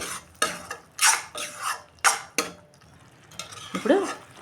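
A spoon stirs cooked-down tomatoes with salt in a pan for tomato pickle, giving several soft scraping strokes with brief metallic clinks in an irregular rhythm, close and alone.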